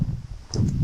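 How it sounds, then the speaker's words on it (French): Wind blows outdoors in Hokkaido as a low, rumbling buffet that swells in uneven gusts over a brief moment, close and fairly loud. "bon là il y a du vent"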